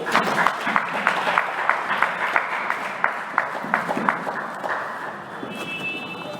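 Audience applause at a gathering, steady rhythmic clapping in unison from a group nearby that keeps a regular beat, then fades out.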